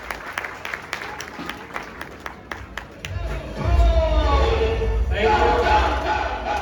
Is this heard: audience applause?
yes